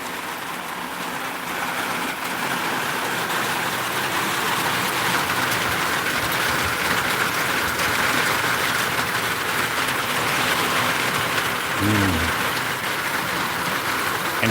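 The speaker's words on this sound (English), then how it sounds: "if it was raining like this" Steady rain falling outdoors, a dense continuous hiss of drops on surfaces that stays even and fairly loud throughout, with a brief low sound near the end.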